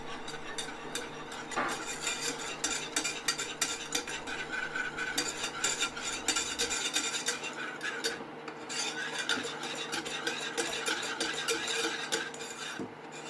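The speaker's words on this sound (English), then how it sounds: "Good stir up, making a roux." A spoon stirring flour into melted butter in a pan to form a roux for a beef lasagne, with a steady scraping, rubbing rhythm and occasional clinks of utensil against the pot, close and continuous with no talking.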